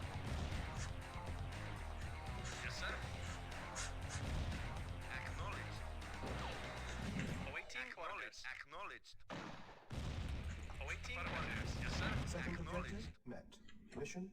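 Naval gunboat shelling tanks in the real-time strategy game Command & Conquer: Red Alert, a dense, loud barrage of booming cannon fire and explosions layered over game music, with brief lulls between volleys.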